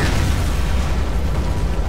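Heavy artillery fire in the Company of Heroes strategy game rumbles as a continuous deep, loud boom and roar throughout, with dense low-end blast noise.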